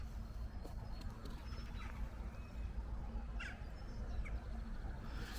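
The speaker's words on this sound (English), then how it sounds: "There's so much bird life, especially in the far distances." Wild birds calling across open countryside hills in Worcestershire, with a pigeon or dove cooing among them; soft, distant calls and chirps scattered over a steady outdoor background hiss, with no talking.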